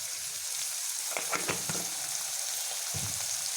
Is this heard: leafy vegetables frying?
yes